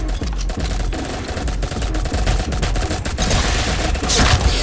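Continuous rapid automatic gunfire rattles loudly for several seconds, dense bursts of shots with no pauses, in the shooter game Ink Game.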